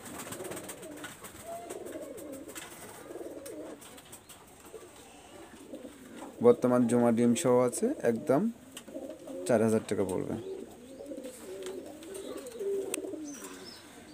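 Imported-bloodline pigeons kept for tournaments give soft, low cooing near and faint, while someone speaks over the birds through the middle stretch.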